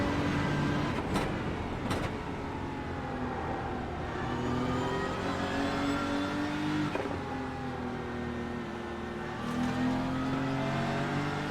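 GT3 race cars, a Porsche and a BMW, roar through a racing video game, their engines rising and falling in pitch through gear changes and acceleration, loud and continuous without talk.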